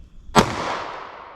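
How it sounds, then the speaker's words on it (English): A single sharp .40 S&W pistol shot fired with Remington Golden Saber Bonded ammunition, a loud close crack followed by a decaying outdoor echo. "let's hit that with our 40 Smith & Wesson"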